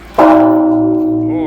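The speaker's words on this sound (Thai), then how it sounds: "นี่ตีระฆังสวรรค์นะครับ" A single loud strike of a temple bell at a Thai temple rings out close by, its clear metallic tone sustaining and slowly fading over the rest of the clip.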